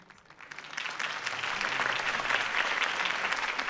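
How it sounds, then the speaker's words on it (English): A crowd in Batman: The Telltale Series bursts into applause after a campaign speech, the clapping swelling within the first second and continuing steadily and fairly loud to the end. "could have heard that applause"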